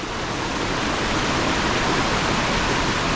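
Rushing water at Owia Waterfalls in St. Vincent and the Grenadines, a steady dense roar that stays unbroken and fairly loud throughout.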